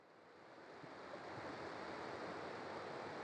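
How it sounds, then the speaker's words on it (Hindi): The Mandakini river at Rudraprayag in Uttarakhand rushes steadily as a broad, dense roar of flowing water that builds slightly and then holds, with no voices. "ये है मंदाकिनी नदी।"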